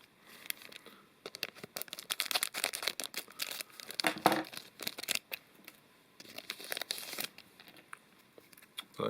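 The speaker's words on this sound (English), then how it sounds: "Hard to open. I use the scissors." Kaldheim trading card packs being cut open with scissors, giving repeated crinkly foil-wrapper rustles and snips close to the microphone, irregular and busy across the whole stretch with no talking.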